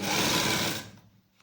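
A sewing machine stitches a seam on a straight salwar, running fast and close for under a second before stopping abruptly, leaving near silence.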